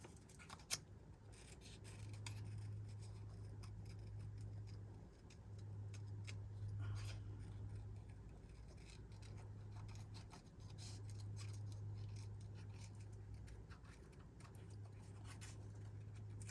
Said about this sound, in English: These need to be fussy cut out, and then I can use around the edges too.